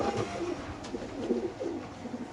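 Racer pigeons coo softly and repeatedly at a pigeon farm, with several overlapping low calls close by against light background noise.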